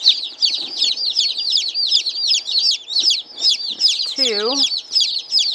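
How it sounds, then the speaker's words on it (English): Rhode Island Red baby chicks peep in rapid high repeated chirps, close and continuous, with a person briefly speaking over them and one louder drawn-out call near the end. "They're the red baby chicks."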